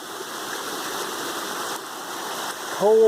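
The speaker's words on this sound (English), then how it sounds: "Hopefully you can hear me over the sound of the raging waters." Steady rushing of a cold mountain stream on the Appalachian Trail fills the scene, close and constant, with a brief tonal chirp near the end.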